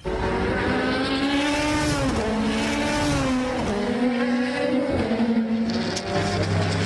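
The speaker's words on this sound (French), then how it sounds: "Une trentaine de voitures prennent le départ de cette course d'endurance dans la Sarthe" Race cars at the 24 Hours of Le Mans endurance race in the Sarthe roar loudly and continuously, engines revving up and down in pitch sweeps as several cars pass close by.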